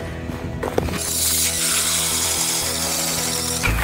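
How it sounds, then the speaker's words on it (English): A power auger whirs loudly and steadily, close up, as it bores a hole through ice, starting after a brief rev. "let's drill a hole and show you how much ice we got"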